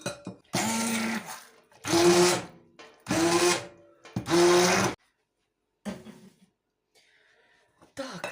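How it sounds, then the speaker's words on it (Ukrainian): A blender whirs in four loud bursts of about a second each while pureeing baked pumpkin, separated by short pauses, followed by quieter scraping and handling sounds. "Зараз я проб'ю блендером"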